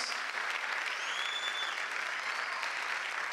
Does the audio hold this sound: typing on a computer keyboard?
no